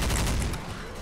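Gunfire in the zombie shooter game Left 4 Dead, a dense loud burst of rapid shots that eases slightly after the first half second.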